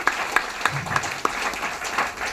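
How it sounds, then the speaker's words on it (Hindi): A gathered audience applauds, a modest, fairly thin round of clapping with a handful of distinct sharper claps standing out above the patter, short and moderately close. "दोनों का नाम से एक ज़बरदस्त ताली होनी चाहिए"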